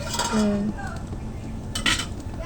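A metal lid goes onto a cooking pot with a single clear ringing clink, then a softer clatter of metal on metal follows a moment later, close by in a quiet kitchen.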